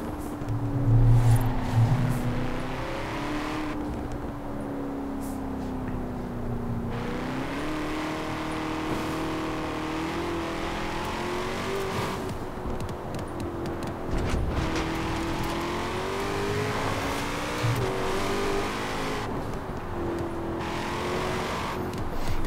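A 2020 Shelby GT500 in Forza Horizon 4 drones loudly and continuously, its engine note rising and falling through gear shifts and throttle changes, with brief harsher revving bursts and no voices.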